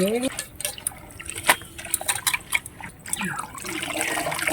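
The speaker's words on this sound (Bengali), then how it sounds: "এবার আমি একটু জল দিয়ে ধুয়ে নেই" Water splashes and trickles over freshly chopped pumpkin leaves as they are rinsed for cooking, with close, uneven pouring and dripping that has a few sharp splashes and a steadier running flow toward the end.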